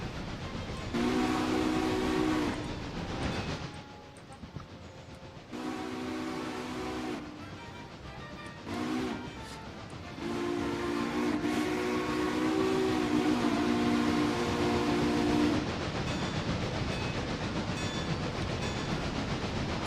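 A train passes in the railroad game Railroader, with a long rumble of rolling cars broken by repeated horn blasts, some long and some short, loud and close throughout.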